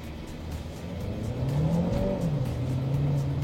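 A Chery Omoda 5 GT pulls away from standstill in normal drive mode, its engine rising steadily in pitch and loudness as it accelerates, heard from inside the car with no talk.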